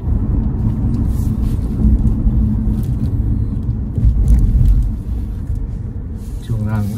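A Toyota Camry hybrid on a test drive, its engine cutting in under acceleration as a low, steady cabin rumble with road noise, while people talk inside the car.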